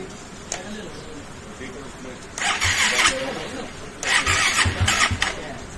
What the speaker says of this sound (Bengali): বাইক স্টার্ট নিতেই ঝামেলা হয়ে যাচ্ছে,